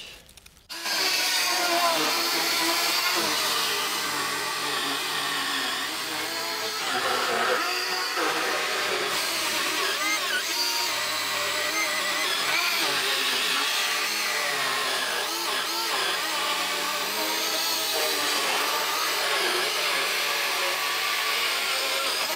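A Parkside PHKSA 12 B3 cordless circular saw cuts through wooden Euro pallets with a loud, steady whining roar that holds almost unbroken for over twenty seconds after a brief start.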